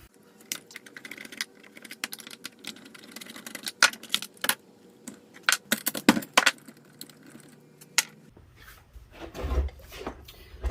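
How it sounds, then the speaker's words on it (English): Clicks, taps and light metallic clatter of a chainsaw being taken apart, its top cover coming off and the spark plug pulled, in scattered bursts with a few sharper knocks toward the end. "Let's get this thing apart, get the top off of it, pull the spark plug out"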